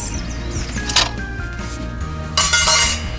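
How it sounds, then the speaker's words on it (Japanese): Metal plate being lifted out of a folding Firebox camping stove, giving close metallic clinks and a scraping rattle, with a brief louder clatter near the end. "まずは2本のスティックを外します。 次にプレートを外します。"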